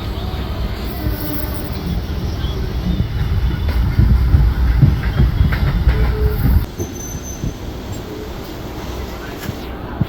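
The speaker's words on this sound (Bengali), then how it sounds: "আবার এখান থেকে ট্রেন ছেড়ে দিলো, আমরা এখন যাচ্ছি বেলমুড়ি স্টেশন।" A passenger train pulls out of Shaktigarh station, a loud steady rumble of wheels and carriages with faint rail squeal, easing to a quieter roll near the end.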